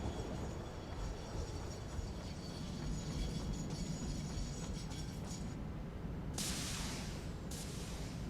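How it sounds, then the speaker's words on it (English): A train in a factory-building video game rolls along with a steady, faint mechanical rumble and hiss, with brief brighter bursts of hissing noise near the end. "I do love the animation and the sound of the train."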